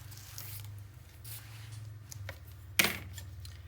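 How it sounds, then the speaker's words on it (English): Tape is peeled from a 9 x 9 mini album page in one quick sharp rip near the end, after quiet rustling and a low hum. "I'm going to take this tape off"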